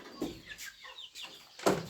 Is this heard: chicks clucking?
yes